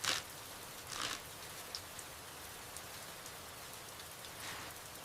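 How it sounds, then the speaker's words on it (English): Steady light rain falls outdoors in a village setting, a soft continuous hiss with a few louder splashes and drips near the start, faint and calm throughout. "The rain is so lovely today."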